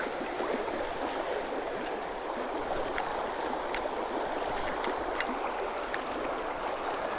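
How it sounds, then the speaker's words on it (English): Fast-moving stream water rushes steadily and loudly with a constant broadband hiss and faint gurgles, with no voices heard. "Basically, this is real fast moving water,"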